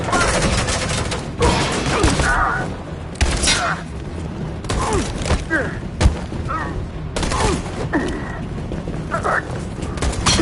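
Gunfire in the video game Detroit: Become Human comes as bursts of sharp shots and booms, mixed with mechanical clatter while voices shout over the action throughout.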